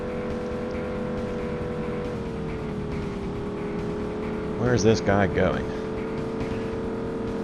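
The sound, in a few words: car engines driving in video game Driver 2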